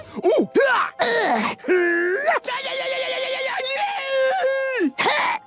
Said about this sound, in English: I love screaming and falling into pits and dying and punching people